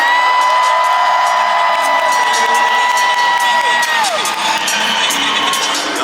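A convention crowd at Culture Con cheers, whoops and claps for actor Warren Sutton, loud and sustained, with shouting voices mixed into the roar.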